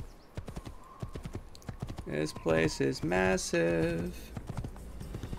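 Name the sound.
horse hooves clip-clopping in the video game Assassin's Creed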